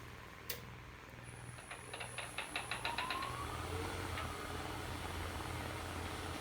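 A wood lathe spins up for turning a winged bowl, a quick series of rising mechanical clicks and whirs settling into a steady low hum at about 700 RPM, quiet and nearby with no speech.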